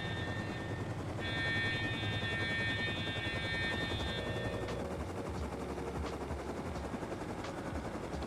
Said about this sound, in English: So I'm going to land this heli around this poor bloke's base below me.